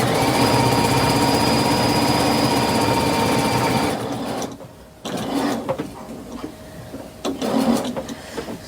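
A Bernina sewing machine stitches with Aurifil thread, a steady humming whir for about four seconds, then a pause followed by quieter stop-start stitching and soft handling noises, with no voices.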